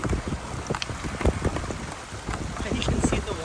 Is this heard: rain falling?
yes